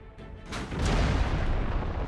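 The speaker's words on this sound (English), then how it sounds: "It's the Kaiser's secret weapon, a monster made of 3 cannon barrels welded end to end and named the Pariser cannon." The Paris Gun, a German long-range cannon made of three welded barrels, fires with a deep rumbling boom that swells and rolls on, heard from afar.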